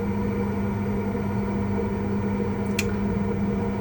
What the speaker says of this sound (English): you can hear how much noise the boiler is making to heat that shower